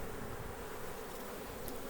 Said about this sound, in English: look at all the bees still in the bucket